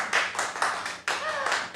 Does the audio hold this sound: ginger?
no